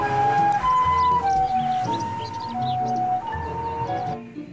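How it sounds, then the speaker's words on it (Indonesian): A toy ambulance siren wails in a steady two-tone pattern, loud and close, repeating through the stretch over a low mechanical hum and a few faint chirps, with no talking. "Ada mobil ambulan."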